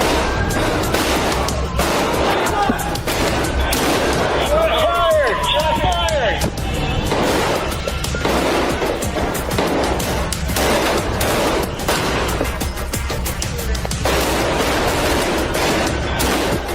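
Rapid gunfire barrage during an active-shooter attack at a hotel as police officers return fire, with dense bursts of overlapping shots and voices in a chaotic background.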